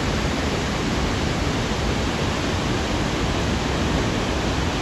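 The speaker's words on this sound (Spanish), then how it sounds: "Falls of Clyde en New Lanark. Mirad el remolino, está ahí por la fuerza y todo del agua." Falls of Clyde waterfall at New Lanark, running with a huge volume of water, gives a steady, loud, broadband roar that holds constant without any break throughout.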